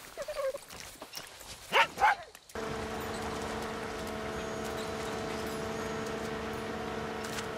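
A dog in the video game Far Cry 6 gives a few sharp barks and yips up close, followed by a steady droning background hum with no further barking.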